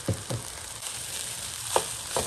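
Fried rice with black pepper is tossed in a hot pan, a steady sizzle marked by a few distinct spatula scrapes and knocks, close by.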